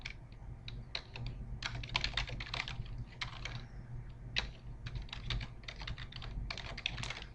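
Typing on a computer keyboard, close and clear, coming in quick irregular bursts of keystrokes with short pauses between them and no voices.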